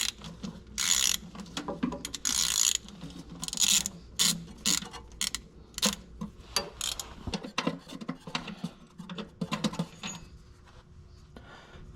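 Ratchet clicking in repeated bursts while removing long starter bolts from a 2014-19 Chevrolet Silverado, a close, dry ratcheting with short pauses between runs and bolts turning out easily.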